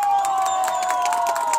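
Loud, continuous crowd cheering and applause at a lively audience contest for the ugliest old king of Santa Rita, with high whistles and shouts, including children, sustained over the whole stretch.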